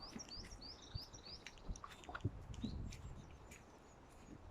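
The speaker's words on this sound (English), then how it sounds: "Can you hear the birds?" Small birds chirp and tweet repeatedly in the woods, their high calls scattered across the clip over soft footsteps and rustling outdoors.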